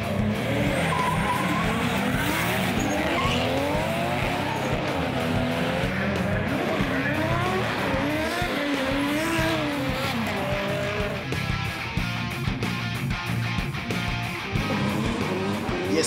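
Drift cars at a D1NZ national drifting championship round at ASB Baypark Stadium, Tauranga, with engines roaring and tires squealing continuously in a loud, sustained wash of revving and skidding, close and dense throughout.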